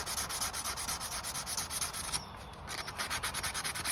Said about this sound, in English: So we're just trying another sandpaper to see if it's better